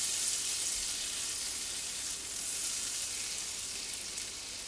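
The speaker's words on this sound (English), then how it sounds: "I can tell my pan is a little hot because it immediately started bubbling and frying." Butter bubbling and sizzling in a hot pan for an omelet, a steady bright hiss that stays loud and close throughout without any talk.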